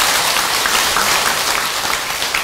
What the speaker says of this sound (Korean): 그래서 주지스님을 위해서 박수 한번 쳐주세요.